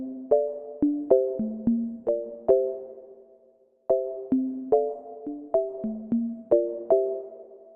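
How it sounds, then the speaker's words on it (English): Synth mallet preset called Mallet of Corallium playing chords in Pro Tools for a dancehall beat, with bright struck tones in short rhythmic stabs that decay quickly, a brief pause midway, then the pattern repeating, clean and alone. "that sound is called Mallet of Corallium"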